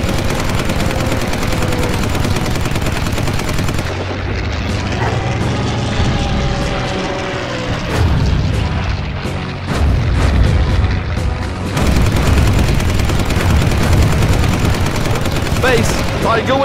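Aircraft machine guns strafe a German bunker site on the French coast in the Battle of Britain flight game Combat Wings: loud, sustained bursts of rapid gunfire and booming impacts over a steady engine roar, with brief lulls between volleys.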